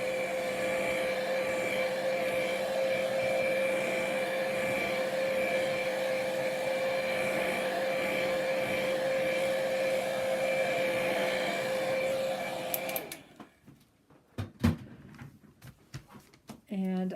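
A hair dryer drying a freshly made painting blows with a steady, fairly loud whir for about twelve seconds, then cuts off, leaving a few faint handling clicks and taps.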